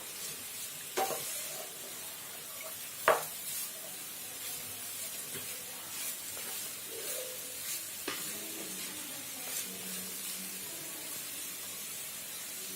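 Sliced bitter gourd fries in a pan, a soft steady sizzle under occasional scrapes and knocks of a spoon stirring it, with a few sharper clacks against the pan.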